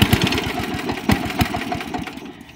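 Small engine running on gasoline fumes, sputtering with a rapid irregular chug of firing pulses, loud and close, fading slightly toward the end with no talking.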